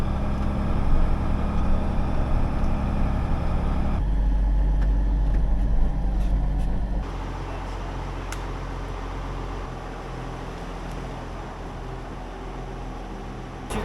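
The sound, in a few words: tractor engine running while rake is hitched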